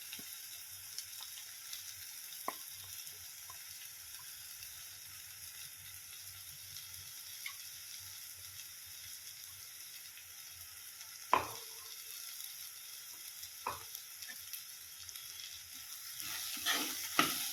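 Mashed green peas and turmeric are stirred in a pan while cooking a green pea chutney: a soft, steady sizzle with a few sharp scrapes and knocks of the spoon, fairly faint, with no talking.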